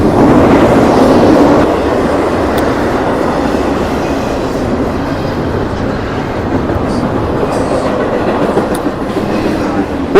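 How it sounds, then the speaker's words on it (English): A train rolls past close by, a loud steady rumble with rail clatter filling the whole stretch, a little louder at the start. "It must be getting ready for the train."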